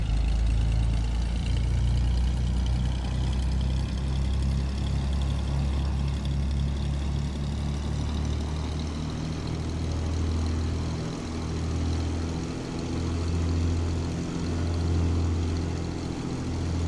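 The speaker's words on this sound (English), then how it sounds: "Let's just warm up the engine." A Bonanza aircraft's piston engine warming up in the flight simulator MSFS, a steady, loud low drone held at run-up speed with a slight pulsing throb, no voices.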